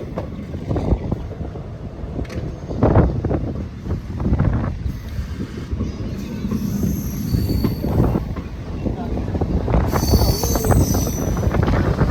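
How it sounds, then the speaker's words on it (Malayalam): A Vanchi Maniyachi passenger train pulls into a station, with a loud, steady rumble of rolling wagons, rail clatter and faint wheel squeals throughout, and no voices. "പാസഞ്ചർ കൃത്യമായിട്ട് തന്നെ വന്നിട്ടുണ്ട്."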